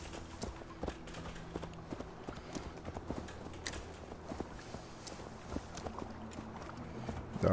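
Horse hooves clip-clop steadily in Assassin's Creed Valhalla as a mount crosses a stone bridge, an even walking rhythm of close, distinct hoof strikes over low game ambience.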